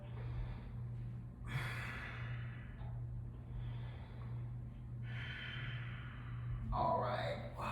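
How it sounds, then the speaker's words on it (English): Deep, slow breaths drawn during a held yoga pose in a home-style class, with three or four audible airy inhales and exhales spaced a few seconds apart, close and fairly quiet over a steady low hum. "Last 2 breaths."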